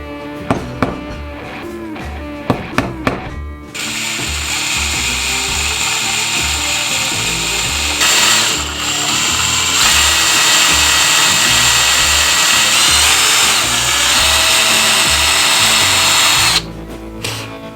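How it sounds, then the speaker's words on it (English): A power drill boring holes during a Telecaster guitar build: a few short ratcheting clicks and taps, then a loud sustained whirring drill run with a brief dip midway, stopping abruptly near the end. "I'm just gonna punch these out and drill them"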